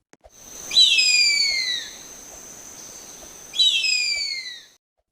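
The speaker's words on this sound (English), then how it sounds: "Last one, the harpy eagle." A harpy eagle gives two loud, high, piercing whistled screams, each sliding downward and lasting about a second, separated by a quiet pause with only a faint steady tone against a still background.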